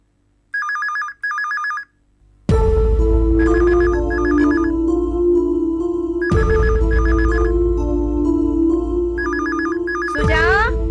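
A telephone rings in short repeated double bursts, first alone and then under loud dramatic music with sharp hits and swells.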